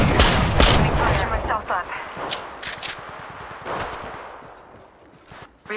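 Gunfire in Apex Legends Mobile, rapid bursts of shots loud and close, thinning out over a few seconds, with character voice lines spoken over the action.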